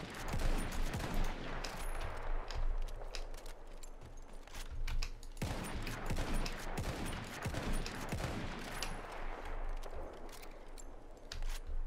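Gunfire from a Russian 1895 Trench rifle in the Battlefield 1 video game: dense, loud, rapid shots crack one after another with echoing battle noise, broken by a brief pause midway.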